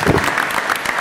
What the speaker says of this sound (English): love to give them a round of applause for their hard work and commitment